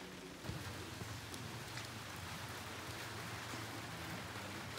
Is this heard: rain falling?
yes